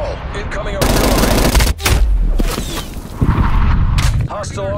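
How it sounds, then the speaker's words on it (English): Heavy gunfire and booming blasts in a Call of Duty Cold War match, with incoming artillery shells, dense and loud throughout, plus a sharp break near the middle, and radio-style voice lines running underneath. "Hostile artillery targeting active. Net call. Incoming artillery."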